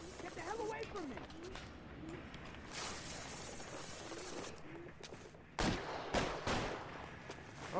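Gunshots in a dramatic scene, a few sharp cracks late in the stretch following a quieter, mechanical-sounding passage, with people talking over parts of it.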